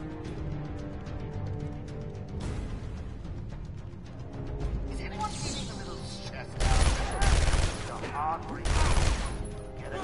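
Guards open fire on Batman in Arkham Asylum, a crackling fusillade of gunshots building up through game music and effects, with the loudest bursts near the end while people talk.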